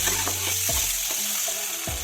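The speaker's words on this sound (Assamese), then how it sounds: "এতিয়া মই ডিমখিনি বইল কৰা ডিমখিনি এনেকৈ গোটাকৈ ফ্ৰাই কৰি লৈছোঁ" Whole boiled eggs fry in hot oil, a steady close sizzle with a few soft scrapes and clinks of stirring spread through it.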